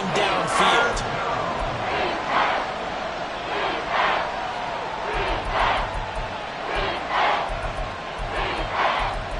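Stadium crowd in a football video game roars and chants in rhythmic surges, a dense babble of cheering voices rising and falling throughout.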